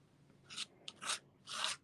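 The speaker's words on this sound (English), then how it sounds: "And I just scrape it off." Embossing paste scraped off a surface with a scraper: three short, dry rasping strokes separated by brief pauses, quiet and close, with no talking.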